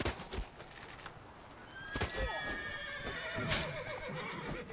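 A horse neighs in The Witcher 3 video game: a shrill, wavering whinny over a rough outdoor background, with a few thuds and hoof sounds around it.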